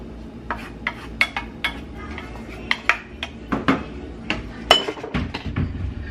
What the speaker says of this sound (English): I am going to drain and rinse these off and drop them into the pot.